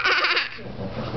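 A person, probably a child, imitates a goat with a loud, wavering bleat up close, followed by a fainter short call.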